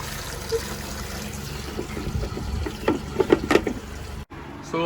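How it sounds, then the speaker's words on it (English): Water trickling and splashing into the tank of a Sparkel industrial air cooler, a faint steady flow with a few brief louder splashes near the end. "water is coming into the tank."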